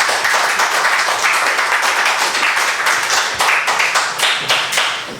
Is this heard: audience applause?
yes